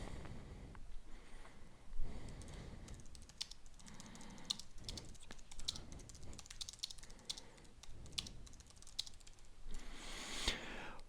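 Someone types steadily on a computer keyboard, writing a code comment, with quiet rapid clicking keystrokes and a few louder taps, close and soft against a low background hum.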